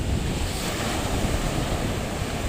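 Strong ocean waves and surf roar steadily at a coastal spot in Real, Quezon, a loud continuous wash mixed with wind buffeting the microphone, with no voices.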